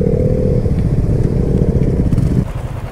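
A motorcycle is parked at a bike launch event at a cafe in Nandi Hills, its engine running loud and close with a rough, throbbing idle before dropping off near the end.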